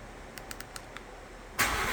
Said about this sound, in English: We just started up the F-250.